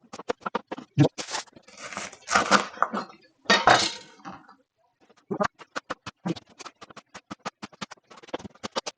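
A knife chops leeks on a cutting board in close, crisp strokes, first in a few scraping, crunching passes, then a quick steady run of sharp taps.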